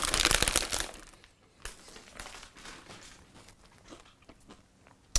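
Dry Blasted Shreds shredded wheat cereal eaten without milk gives loud crisp crunches at first, then quieter irregular chewing crackles that trail off, close to the mouth with no talking.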